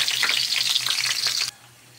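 Garlic and onion sizzle loudly in hot cooking oil, a dense, steady hiss close by that cuts off abruptly after about a second and a half, with no talk.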